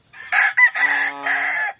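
A Duke Hulsey Grey gamefowl rooster crows once, close and loud, a full multi-part crow lasting under two seconds.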